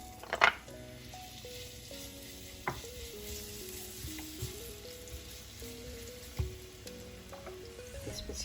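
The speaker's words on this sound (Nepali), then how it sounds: "म अब तेल तताएर अदुवा र लसुनलाई फ्राई गर्न गइरहेको छु।" Garlic and ginger fry in hot oil for a Nepali achaar, a steady close sizzle with occasional stirring clinks and scrapes, under a soft melodic musical backdrop and no talk.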